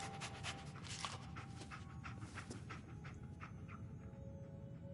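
Dogmeat, the dog companion in Fallout 4, panting steadily and rapidly at close range under a layer of game ambience, with the rhythm holding without a break.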